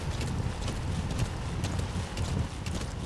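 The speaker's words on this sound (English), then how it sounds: "Ah, it's just a horse." A horse trots in Metal Gear Solid V, its quick hoof beats close and continuous under wind noise.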